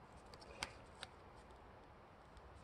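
Paper being folded by hand to make a paper bracelet, soft close crinkling and rustling with a few sharper creasing snaps, with no talking.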